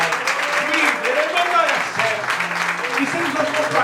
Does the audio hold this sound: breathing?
no